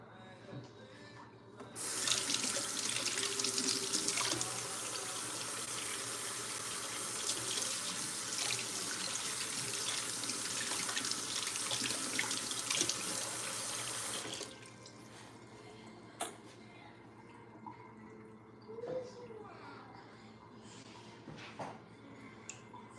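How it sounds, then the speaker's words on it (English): A kitchen tap runs steadily for about twelve seconds while hands are washed at the sink, then shuts off, leaving faint drips, clinks and quiet household sounds. "I'm gonna wash my hands."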